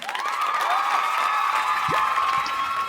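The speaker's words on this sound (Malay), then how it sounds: "Tepuk tangan." Preschool children in a reading lesson clapping hands together; a steady, close burst of group applause with a faint ringing tone underneath and a few small voices.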